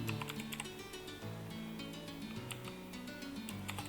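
Computer keyboard keys tapped in quick, uneven bursts while text is typed in Photoshop, a steady clatter of close clicks over soft background music.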